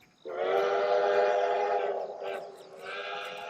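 A train runs past with a sustained whistle blowing loud and steady for about two seconds, then a shorter second blast after a brief dip, with no talking.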